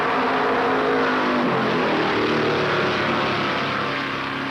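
Stock cars, including a Dodge and a Mercury, roar off the starting line together at a race, a dense, steady engine drone with rising revs that stays loud throughout and slowly eases off at the end.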